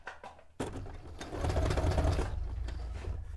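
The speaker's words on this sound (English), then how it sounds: "I'm gonna sew the top section and then the bottom section." A sewing machine running at its longest stitch length while sewing through hard plastic for a cone-shaped cape: a quick start, then a steady loud mechanical whir with a rhythmic stitching clatter.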